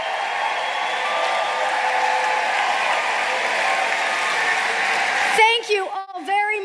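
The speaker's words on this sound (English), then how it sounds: "Everybody, a big round of applause for our veterans." A large political rally crowd in Moon Township, Pennsylvania, applauding veterans, heard as a dense, steady roar of clapping and cheering for several seconds before an amplified voice starts speaking near the end.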